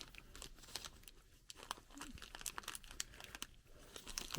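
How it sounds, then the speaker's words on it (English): A plastic bag around a toy figure is opened carefully, with faint crinkling and soft tearing rustles coming in small irregular bursts, close but quiet. "I'm going to try to do this without... I don't want to tear the plastic bag"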